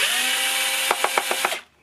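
A cordless power drill whirs loudly close up while backing screws out of a Tonka XT Ricochet RC car, then stutters through several quick ratcheting pulses before stopping.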